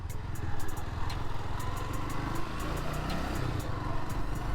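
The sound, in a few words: 1985 Honda FT 500 Ascot motorcycle engine shifting gears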